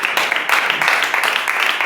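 Clapping from a church congregation fills the short stretch as a steady, close rhythmic patter of many hands with no talk over it.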